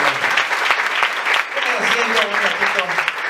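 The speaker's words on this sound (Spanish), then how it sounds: "Den las palmas al Señor." Church congregation clapping along during a worship service, dense steady hand claps filling the room with voices singing or talking underneath throughout.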